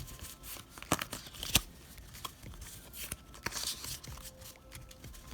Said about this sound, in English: I'm going to go ahead and shuffle since it's a white code.